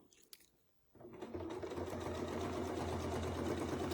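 Sewing machine stitching a quilt block, starting after a brief pause and then running steadily at a fast even rhythm, close and moderately quiet, with no talking.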